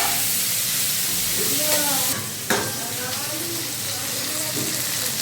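Cauliflower florets with salt and turmeric frying in a pan, a continuous close sizzle and hiss with stirring scrapes and a sharp clack midway, faint background voices underneath.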